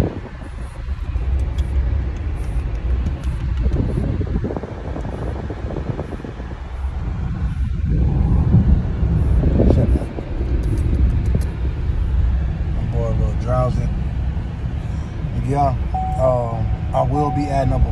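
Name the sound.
car interior while driving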